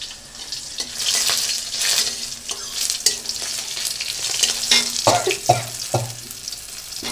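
Green chillies dropped into hot oil for a vegetarian taro dish, giving a steady sizzle and crackle with intermittent stirring scrapes and a few sharp metallic clinks of a spatula on the pan near the end.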